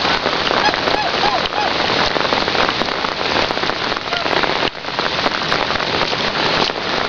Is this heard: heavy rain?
yes